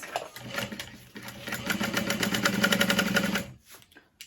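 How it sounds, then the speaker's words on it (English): A sewing machine stitches an exterior pocket and its lining together along a seam. It runs in short bursts, then hums steadily for about two seconds before stopping, close and fairly loud, with no talking. "So we're going to put those right sides together. And sew together at about a 3/8 of an inch seam allowance."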